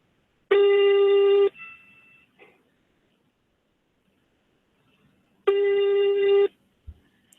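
A European-style ringback tone sounds on a phone call, two long steady buzzing tones about five seconds apart, loud and close, with faint noises between them.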